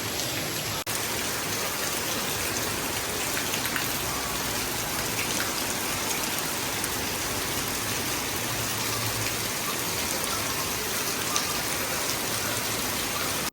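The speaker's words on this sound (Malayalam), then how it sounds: "ആണ് ഭയങ്കര മഴ." Heavy rain pours down in a dense, continuous roar of drops drumming on surfaces, loud and unbroken from start to finish, with no talking.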